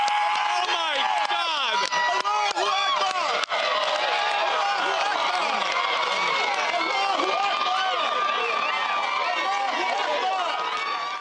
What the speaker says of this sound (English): We're hearing some kind of cheer that has gone up.